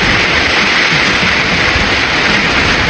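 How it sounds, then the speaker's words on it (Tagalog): Heavy rain pours steadily in strong storm wind around a nipa hut, a dense continuous roar close by with no break for the full stretch. "Lakas ng ulan."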